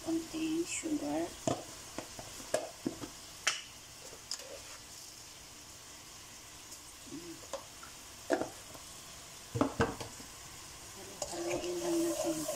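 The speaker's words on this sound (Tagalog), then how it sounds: "Haluin lang natin guys." Beef muscle pieces with oyster sauce and a little sugar are stirred in a hot pan, producing soft sizzling broken by sharp intermittent clicks and scrapes of the utensil, with a few brief louder stirring bursts.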